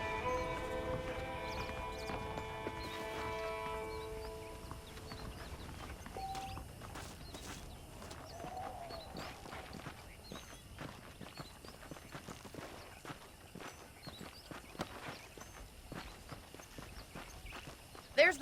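Saddled horses' hooves clop in Red Dead Redemption, a steady walking rhythm of hoofbeats running through the clip, with a brief burst of speech and music near the start.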